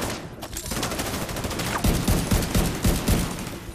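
Turret gunfire in the video game The Division 2 bursts as a rapid rattle of loud, close shots. The burst is dense and steady through the second half, with no speech over it.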